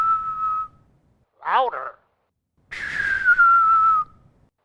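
A person whistles into a phone from about five feet back, producing two sustained steady tones separated by a brief warbling burst, loud and close, with a short spoken word in between.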